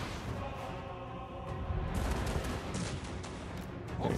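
Massed gunfire volley from units in Warhammer 2 (Mortal Empires, Clan Angrund battle), a continuous dense crackle of shots over about four seconds with a low rumble underneath, with faint talking mixed in.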